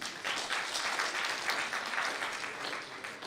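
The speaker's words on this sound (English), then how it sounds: "Honestly, I'm not taking that applause." Audience applause at a university 60th anniversary press conference, a steady wash of many hands clapping at moderate loudness throughout, with no voices on top.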